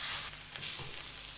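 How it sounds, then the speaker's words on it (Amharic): Chicken frying in a pan with a spoonful of tomato salsa, a quiet, continuous hissing sizzle with a faint stir, lasting just over a second. "እሱንም እንደዚህ ጠብሰዋለሁ አብሬ።"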